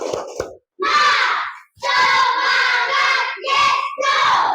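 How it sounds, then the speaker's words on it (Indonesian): Schoolchildren in a classroom perform a rhythmic spirit clap, loud chanted shouts in short bursts with a few sharp hand claps at the start. "Kita tepuk semangat dulu."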